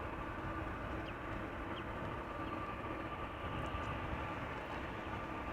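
Steady broadband roar of an airliner arriving at Amsterdam Schiphol Airport, a constant distant rumble with no clear rise or pass, heard alone without talk.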